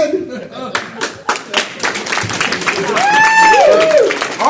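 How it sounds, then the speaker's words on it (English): A live comedy improv audience breaks into clapping and applause, a few scattered claps first building into full applause, with laughter and voices mixed in and a whooping vocal cheer near the end. "give them a round of applause"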